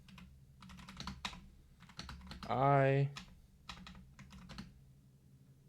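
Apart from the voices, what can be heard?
typing on a computer keyboard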